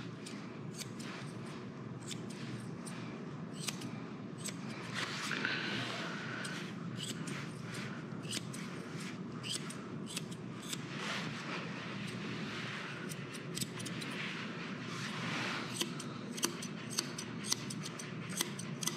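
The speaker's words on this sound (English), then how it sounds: "Just gonna trim these ears." Scissors snipping fur around a dog's ears during grooming, a steady run of quick close cuts and small clicks against faint background noise, with no talk.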